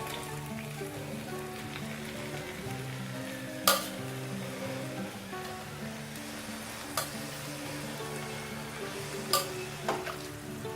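Chicken frying in a pan of spicy gravy, with a steady loud sizzle and bubbling that runs throughout, broken by a few sharp clinks and scrapes of stirring, recorded close.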